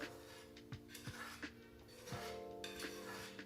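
Food is scraped and stirred in a pan while cooking, giving faint, repeated rasping strokes with small knocks and clicks at an uneven rhythm, close by and quiet.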